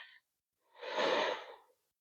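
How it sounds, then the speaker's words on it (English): One slow, deep breath taken during a seated guided meditation, a soft airy rush that swells and fades over about a second, alone in an otherwise silent room. "take a deep breath"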